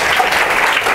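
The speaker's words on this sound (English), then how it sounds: "Thunderous round of applause for our action takers." Loud, dense audience applause at a seminar-style event, a full burst of clapping sustained evenly from start to finish.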